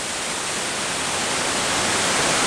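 Waterfall in Arshan tumbling over slippery rocks, a steady, dense broadband rush that stays constant and close throughout with no voices.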